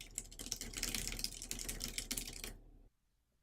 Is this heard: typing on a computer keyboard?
yes